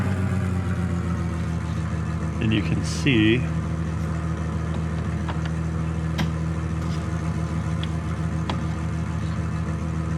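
Car engine in the iRacing sim, a steady, close idle hum that runs throughout, with someone talking over part of it and a few brief higher tones near the start.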